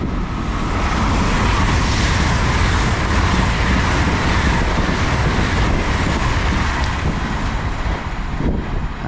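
An LNER Class 800 train, unit 800 107, rushes through Newark North Gate station, a loud, sustained roar of wheels and air that holds steady throughout.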